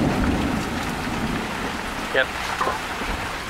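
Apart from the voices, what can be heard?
hailstorm with rain and thunder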